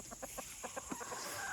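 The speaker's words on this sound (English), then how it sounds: "My other batch of chickens are over here" Backyard chickens beside a coop give a quick series of soft, rhythmic clucks, about eight short close pulses over a faint steady background hiss.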